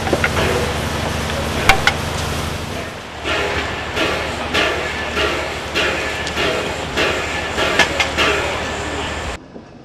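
A steam train rumbles loudly and continuously, with rhythmic clattering bursts of wheels on track, until the sound cuts off near the end.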